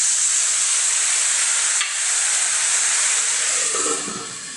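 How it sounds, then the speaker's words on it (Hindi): Green chillies sizzle steadily in a covered pan after a splash of water, a loud continuous hiss that eases slightly toward the end. "इसका इसमें छींटा लगाएंगे और इसको ढककर 2 मिनट के लिए पकाएंगे"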